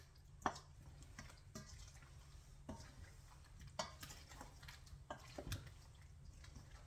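A spoon mixes apple pie filling with rose water in a bowl for a 1796 recipe, giving soft, wet stirring with irregular light clinks against the bowl. It sounds quiet and close, with no talk.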